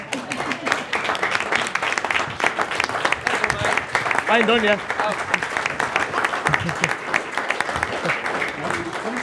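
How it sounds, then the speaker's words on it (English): Wedding guests break into loud, sustained applause, a thick wash of clapping that fills the room throughout, with a voice and brief cheers rising over it partway through. "And a round of applause, please"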